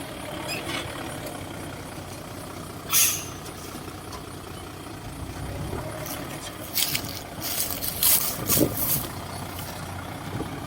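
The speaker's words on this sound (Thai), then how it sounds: "เสียงเครื่องยนต์ของเขานะครับ เครื่องยนต์ค่อนข้างจะนิ่มครับ" SANY SY215C excavator engine running at a steady low rumble while loading laterite stone into a six-wheel dump truck, with intermittent clanks, hissing and scraping bursts of digging work over the quiet, smooth drone.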